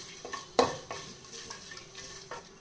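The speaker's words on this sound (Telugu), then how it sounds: "ఇప్పుడు ఇవి చక్కగా వేగాలండి. లో ఫ్లేమ్ పెట్టి చక్క వేగించాలి." Whole spices, including bay leaf and shahjeera, fry gently in a pan on a low flame, with a soft sizzle under a few sharp stirring clinks and scrapes of a utensil against metal, heard close up.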